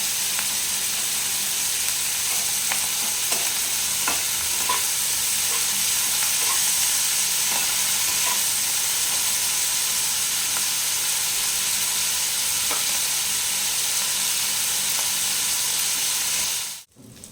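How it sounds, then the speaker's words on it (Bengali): Fish frying steadily in hot oil in a pan for a Bengali ridge gourd and prawn dish, a continuous bright sizzle with scattered pops and crackles that cuts off abruptly at the end. "এটা আমি ভেজে নেবো ভালোভাবে মাছটা"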